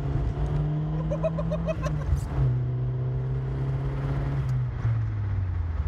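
A 2.0-litre turbocharged Nissan Pulsar GTI-R with a close-ratio gearbox pulls hard, its engine note rising through a gear, dipping briefly at a shift, then climbing again steadily with a droning exhaust; no voices.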